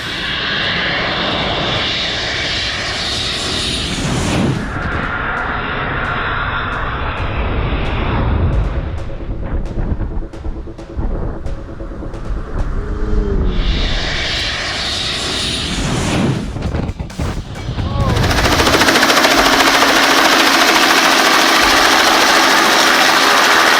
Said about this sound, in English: The first run of a freshly installed GECF 6-50 turbofan engine